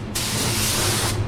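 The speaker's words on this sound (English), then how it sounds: "this is my very first job that I'm spraying with this gun" A 3M Performance spray gun lays down paint in one continuous, close, loud hiss lasting about a second, starting and stopping cleanly.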